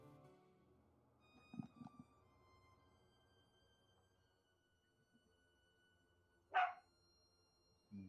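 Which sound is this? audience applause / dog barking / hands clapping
dog barking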